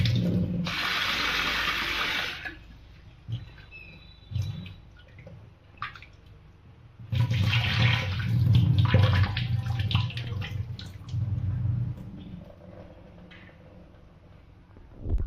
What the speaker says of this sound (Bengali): এটা আমি ধুয়ে নিচ্ছি। একটু ঘষে ঘষে ধুয়ে নিচ্ছি